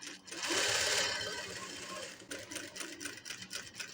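A threaded sewing machine with the presser foot lowered stitches a round shape, giving a close whirring run followed by a string of short, stuttering stitch bursts.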